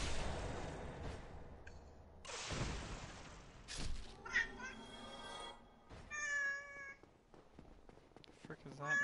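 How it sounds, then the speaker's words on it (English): A cat in a video game meows several times, short toy-like cries with whooshing game effects between them, mixed with other in-game sounds. "That's a cat."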